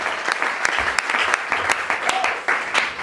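A church congregation at a Sunday worship service claps loudly in a quick rhythmic beat for about three seconds, with voices mixed in.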